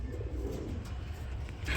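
Shirting pigeons coo softly at a pigeon farm, with a low murmuring burble under a steady background hum, faint and continuous with no talk.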